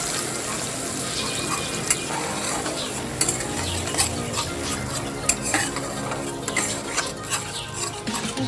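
A spice mix sizzles in a frying pan with bitter gourd while it is stirred, a steady close hiss broken by scrapes and clinks of the spoon. The frying is loud and there is no talking.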